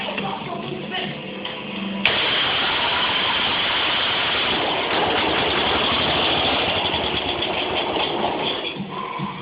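A Massey Ferguson garden tractor engine that had sat unused for years runs on starting fluid, a loud steady close chugging idle that catches after a brief quieter start and keeps going.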